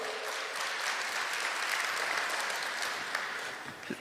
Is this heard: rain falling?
no